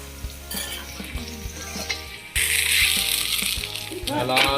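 Drumstick-leaf adai frying in oil on a pan gives off a close, crackling sizzle that surges sharply when oil is poured on top, with utensil scrapes and a voice talking over it.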